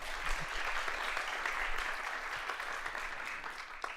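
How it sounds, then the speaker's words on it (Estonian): An audience at an environmental education conference claps through a youth nature-conservation badge award, a dense, steady wash of applause from many hands that holds evenly throughout. "Teeme veel ühe aplausi"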